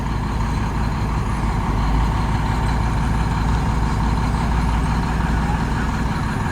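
A 7-axle truck rig's engine idling, a deep steady rumble with a dense low throb, continuous and close with no talk.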